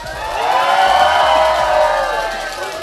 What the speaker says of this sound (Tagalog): They cheering loud, and I can't hear the game.